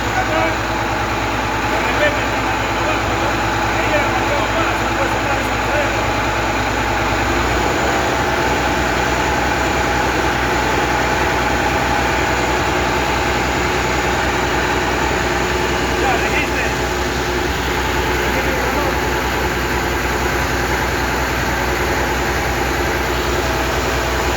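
An engine idling with exhaust back-pressure, a steady heavy low-pitched idle rumble that drops slightly in tone partway through, with a voice speaking over the constant drone.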